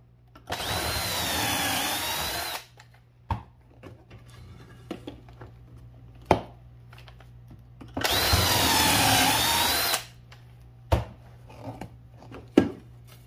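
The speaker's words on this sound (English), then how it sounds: "I'm going to be using my Craig jig to put in pocket holes about every 6 to 8 inches" A Kreg jig guides a drill boring pocket holes into wooden boards for an outdoor bistro table: two loud, sustained whining drill runs, each about two seconds long, broken up by sharp knocks and clatter of the boards.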